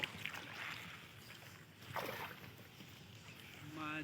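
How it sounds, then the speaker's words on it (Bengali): A rowboat is rowed by hand across a lotus-covered lake, with soft water splashes and paddle strokes rising at intervals over faint outdoor ambience and light breeze noise, heard close to the boat. "আশা নৌকা চালাচ্ছে, মামুন বসে রয়েছে এবং আমিও বসে আছি।"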